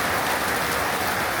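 Heavy evening rain pours down in Bangladesh, a dense, even hiss of drops hitting surfaces close by, steady and unbroken with no voices.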